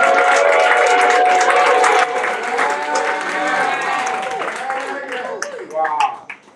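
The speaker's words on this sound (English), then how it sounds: "Let's all give 83-year group a round of applause." Loud crowd applause and cheering for an anniversary class group at a senior high school reunion, a thick continuous wash of clapping that thins slightly, then swells before fading, with voices calling out over it.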